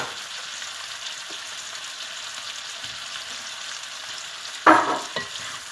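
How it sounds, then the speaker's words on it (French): Pre-cooked vegetables being stirred in a hot pan, with a steady frying sizzle throughout and a brief louder scrape or clatter near the end. "on mélange les légumes là"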